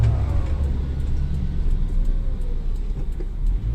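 A heavy ten-wheeler truck rumbles past on the road, a steady loud low drone of engine and tires holding for several seconds without speech.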